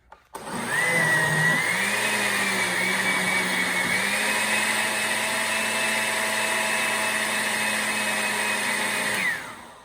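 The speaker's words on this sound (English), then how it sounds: "So inside the blender, I've got our bananas, 1 egg, about a 1/4 cup of milk, and about 1/2 cup of olive oil, and our sugar" Blender whirring through bananas, an egg, milk, olive oil and sugar for banana bread batter, a loud steady motor whine that starts abruptly, holds for about nine seconds with slight pitch shifts, then cuts off.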